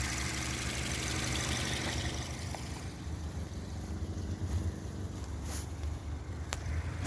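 Toyota Yaris 1ZZ engine idling steadily after a throttle body fix for high idle, a continuous low rumble with a faint airy hiss on top and a couple of brief ticks, heard alone without talk.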